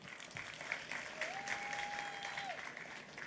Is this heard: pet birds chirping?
no